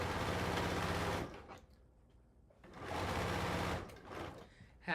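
A sewing machine quilting a quilt runs in two fast bursts of rapid stitching, close and fairly loud, with short pauses between and a brief restart at the end; no one speaks.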